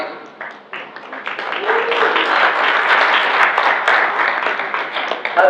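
Audience applause at a BNI networking breakfast meeting, a steady wash of clapping from a roomful of members that swells and holds for several seconds.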